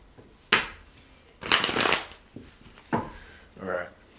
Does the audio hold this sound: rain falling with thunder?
no